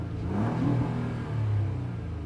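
A V6 engine in a 2017 Honda Accord Coupe EX-L revs twice in quick succession, with a steady mid-range rumble rising and falling, heard up close with no talk.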